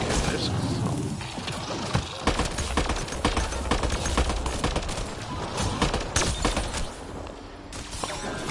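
Burst-fire gun shots in Mass Effect Andromeda, rapid clustered volleys of sharp shots repeating across the whole stretch, loud and close, with someone talking over them.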